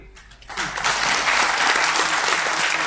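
Applause from the audience at a Hindi poetry gathering (kavi sammelan) swells in after a quiet start and holds as a dense, loud crowd clapping to the end.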